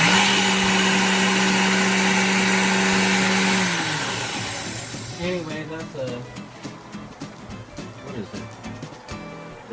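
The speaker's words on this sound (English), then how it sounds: "5-cup diamond blender or something" A 5-cup diamond blender runs loudly on its liquefy setting for about four seconds with a steady motor whine, then shuts off, and kitchen clatter and talk follow.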